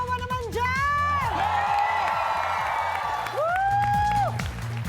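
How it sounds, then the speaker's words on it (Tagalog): A studio audience at a Filipino game show cheers, whoops and claps loudly while an energetic host's amplified voice rings out over the crowd noise. "Isang hiyawan naman dyan!"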